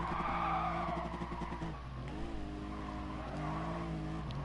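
Race car in a racing video game braking hard into a downhill section, tires squealing and skidding over a steady droning engine, loud and continuous for several seconds.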